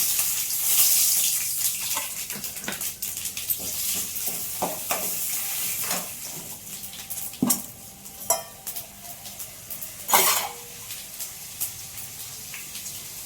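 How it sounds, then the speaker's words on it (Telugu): Mustard seeds, cumin and urad dal crackle and sizzle in hot oil, with scattered sharp pops and spatters over a steady hiss, loud and close. "ఆవాలు జీలకర్ర కొద్దిగా మినపప్పు తిరగమాత వేసుకుంటున్నాను"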